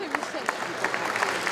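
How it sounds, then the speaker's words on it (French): Scattered, fairly faint applause from an audience paying tribute at a rugby league gathering, a few distinct claps standing out over a soft crowd murmur, with some talk at the start. "rendre un hommage vibrant à travers les applaudissements à Robert Guéraud"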